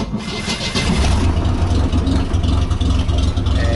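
A Chevrolet Opala engine cranks and catches, then revs loudly and steadily up close, a deep mid-pitched roar that holds through to the end, with no talk heard.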